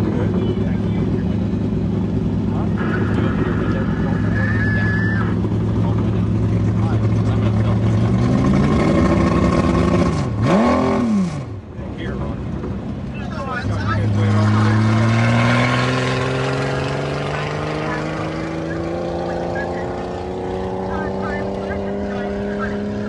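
A 1932 Ford roadster at Bonneville pulls away in drive, its engine note rising in long, loud sweeping pitch climbs, with a brief dip and then a steady climb as the car accelerates away.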